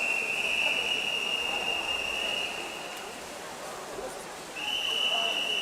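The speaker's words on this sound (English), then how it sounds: "Well, the whistle being blown, and the final 2 lengths for the rest." At a short course swimming championship, a long shrill whistle sounds twice: once from the start, then again after a brief pause. It rings out steady and piercing over a hall's background murmur.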